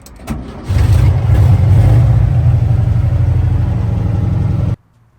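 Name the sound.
Corvair hot rod car driving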